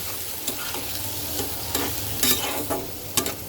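Taro sautéing with turmeric and coriander paste in a little oil for a thin fish curry, a close sizzle with several rhythmic spatula stirs and scrapes, no voices.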